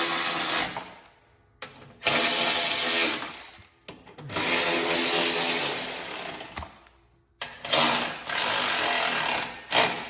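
A ratchet with a 3/8 socket turns bolts on a Cub Cadet RZTS mower blade hub, giving bursts of rapid clicking ratchet strokes separated by short pauses, close and fairly loud with no talk.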